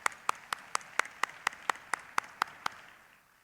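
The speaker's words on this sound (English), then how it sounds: "can we give them a round of applause?" Steady, evenly spaced hand claps at an insurance forum opening ceremony, about a dozen crisp claps in a regular rhythm that fade out at the end.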